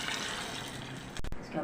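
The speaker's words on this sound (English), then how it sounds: "and add half glass of water" Half a glass of water is poured into a pot of diced tomatoes and oil over a lit flame, giving a steady splashing rush of liquid that ends abruptly after a moment.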